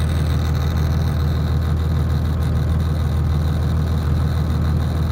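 Second-generation Cummins diesel pickup idles in a driveway, a steady low rumbling engine with a constant droning vibration, close and loud without any talk.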